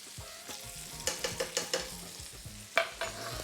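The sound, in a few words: garlic toasting and sizzling in a pan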